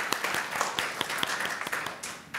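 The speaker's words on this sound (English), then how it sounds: "So please give a round of applause for our team." An audience at an academic conference on race, memory and memorialization claps for the presenting team, a dense crackle of many hands with sharper individual claps standing out, steady and fairly close throughout.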